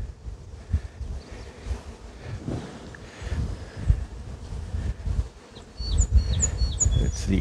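Honey bees feed on candy in a queen cage, giving a soft buzzing hum close by with rustling handling noises, while faint bird chirps sound in the background toward the end.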